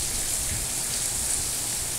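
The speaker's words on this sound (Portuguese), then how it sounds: "Mais um dia aqui em Fortaleza com muita chuva, meu amigo Lucas." Heavy rain falling in Fortaleza, Brazil, a loud, dense and unbroken hiss of downpour with a low rumble underneath and no voices.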